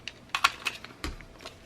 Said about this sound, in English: this is a We Are Memory Keepers corner chomper